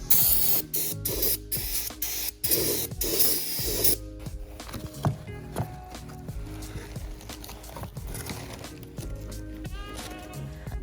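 Brake parts cleaner is sprayed onto rotors for an AP Racing big brake kit on a BRZ/FRS/86, in loud hissing bursts that start and stop in a quick rhythm, followed by quieter clicks and handling of parts, close up and without speech.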